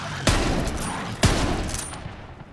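Two loud gunshots from a sniper rifle in the video game Borderlands 3, spaced about a second apart, each a sharp crack followed by a long rumbling decay over steady game ambience.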